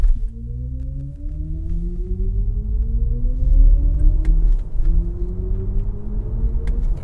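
A 2023 BMW iX3 electric SUV plays its IconicSounds Electric startup sound, a loud low rumble with rising synthetic tones that climb steadily over several seconds, then repeat in a second sweep.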